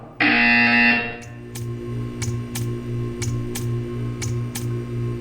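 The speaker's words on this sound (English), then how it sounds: "You will hear a buzzer." A loud electronic buzzer in the video game Portal 2 blares for about a second, then steady ticking clicks follow at an even pace.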